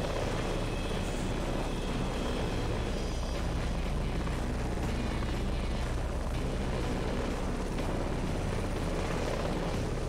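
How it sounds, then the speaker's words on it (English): Helicopter flying in the combat video game Heliborne, a loud, continuous, dense rotor and engine roar that stays steady throughout, with no talking. "Boy, this chopper is fast."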